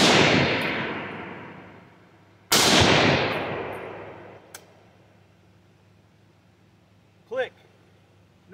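A Ruger SFAR rifle on gas setting 2 firing PMC X-TAC rounds: two loud, sharp gunshots about two seconds apart, each ringing out into a long decaying echo, followed by a brief metallic click and a short squeak.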